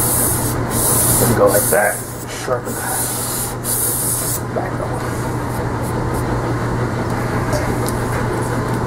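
An old Stanley plane blade is rubbed back and forth on a medium grit sharpening stone, giving a steady gritty scraping with a few sharper strokes early on, close and fairly loud, while someone talks.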